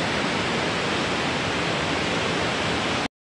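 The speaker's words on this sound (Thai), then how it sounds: "ก็อยู่ที่น้ำตกไนท์แองการ่านะครับ หรือเรียกอีกชื่อหนึ่งคือน้ำตกคอนพระเพ็งอยู่ที่ปักเ ซนะครับ" Khone Phapheng waterfall near Pakse, Laos, a dense, steady roar of rushing water filling the air at constant loudness before cutting off abruptly.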